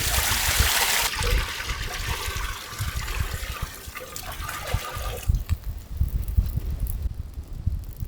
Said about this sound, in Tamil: அப்படியே தண்ணி ஊற்றணுங்க